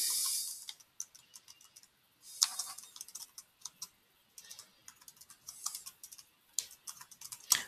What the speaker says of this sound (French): Ensuite, je pourrais taper du texte.